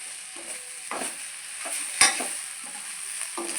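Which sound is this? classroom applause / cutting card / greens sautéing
greens sautéing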